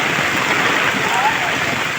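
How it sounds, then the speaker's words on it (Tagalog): Heavy storm rain pours down in a dense, steady hiss that stays loud and unbroken, with faint voices mixed in beneath the downpour during a flood. "Sobrang lakas talaga, ang daming ulan, no?"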